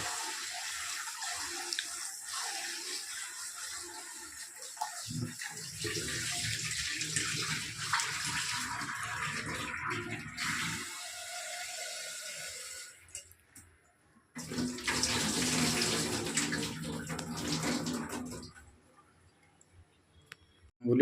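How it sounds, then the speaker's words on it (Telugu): Lentils (dal) are washed in water at a sink, with several stretches of running tap water and splashing that start and stop, with quieter gaps of handling between them and no talking. "ఇప్పుడు పప్పు కడుగుతాను."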